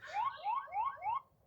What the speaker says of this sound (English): So there is an alarm going off.